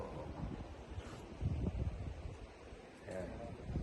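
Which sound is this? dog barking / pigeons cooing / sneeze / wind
wind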